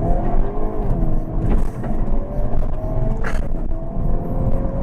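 A 2022 Hyundai Kona N engine roars close by as the front-wheel-drive car accelerates hard using launch control, a strained, steady growl that keeps building.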